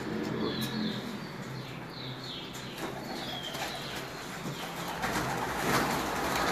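Pigeons cooing in a loft, a steady, dense murmur of soft coos and rustling that continues throughout at moderate level.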